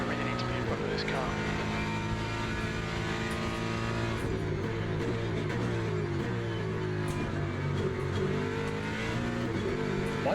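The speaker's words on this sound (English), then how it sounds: "I want to catch this blue Mustang and get my plates back." GT3 race cars in Le Mans Ultimate roar steadily and loudly, engines revving up and down through gear changes while close behind a blue Mustang on track.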